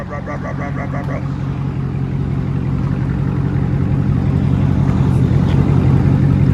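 A 2015 Dodge Charger with the 5.7L HEMI V8 and Dynomax Race Bullet dual exhaust idles nearby, a loud, deep, steady rumble that swells slightly in level, with no talk over it.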